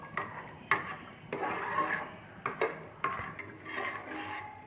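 A spoon scrapes and knocks against a pot as mashed boiled rice is stirred into carrot kheer, giving irregular clinks and rubbing strokes at close range with no talk.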